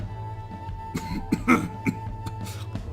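A man coughs a few times over a steady low hum and faint background clatter, the bursts short and moderately loud, in the video game Mount and Blade: Viking Conquest.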